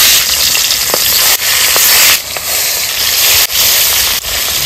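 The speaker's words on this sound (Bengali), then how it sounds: "মাছগুলো ভেজে নেবো।" Fish fry in hot mustard oil in a wok, a loud, dense, continuous sizzle and hiss heard up close, with a few brief dips and sharp crackles.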